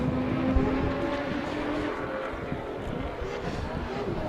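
A drift car finishes a lap at Pukekohe Park Raceway with a steady, distant engine roar and road noise. The sound stays at an even level throughout.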